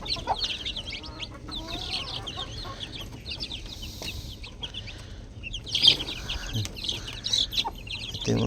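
Newly hatched chicks, some of them black, peep in a steady stream of high, thin chirps close by, with a slightly louder burst near the middle and soft rustling underneath.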